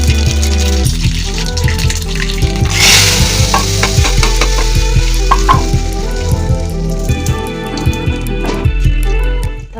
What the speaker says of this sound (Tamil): காஞ்ச மிளகா போட்டு தாளிக்கணும்.